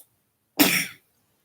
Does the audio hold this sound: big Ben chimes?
no